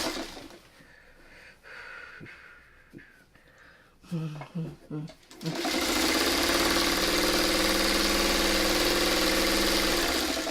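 Sewing machine stitching a quilt seam on a wonky circles baby quilt, starting with faint scattered clicks and then running steadily as a loud continuous whir through the second half.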